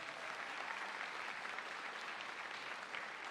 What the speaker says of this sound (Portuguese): Você pode dar uma salva de palmas para essa mulher de Deus?